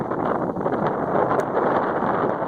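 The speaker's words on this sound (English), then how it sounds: "The wind's blowing." Wind gusts along a trail in the Appalachian mountains, a steady broadband roar with heavy microphone buffeting and no voices.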